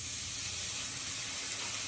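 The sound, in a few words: bacon sizzling in a hot skillet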